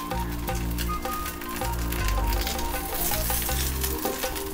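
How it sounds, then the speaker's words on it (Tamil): Masala fish fries in a pan with a steady, moderately loud sizzle. A repeating musical backing plays under it and nobody speaks. "ரெண்டு ஃபிஷ்ஷுமே சூப்பராக ஃப்ரை ஆகிடுச்சு."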